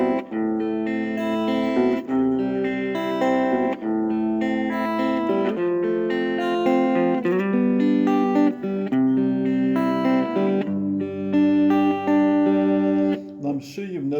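Fingerstyle acoustic guitar plays a song, picked notes and chords ringing steadily and clearly up close with no talking over it.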